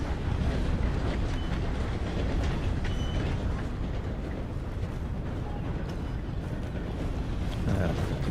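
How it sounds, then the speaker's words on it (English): A loud video-game train in Red Dead Redemption 2 rumbles past up close with continuous clattering and roaring noise throughout, no voices heard. "This is a train. That is super loud."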